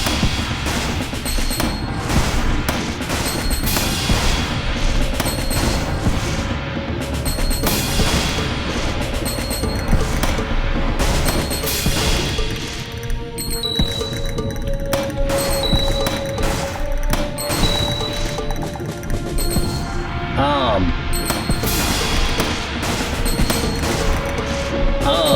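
Video game gunfire in Dark Dreams, a loud, dense and unbroken barrage of shots and booming blasts that keeps going without a pause, with no voices.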